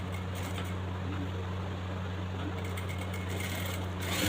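Sewing machine stitching a trouser belt, running steadily with a close, even mechanical hum and rapid needle chatter, speeding up slightly near the end, no talk.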